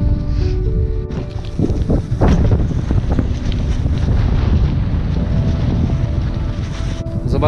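Strong wind blows outdoors in Iceland, a loud continuous rumbling buffet against the microphone that stays steady and heavy throughout.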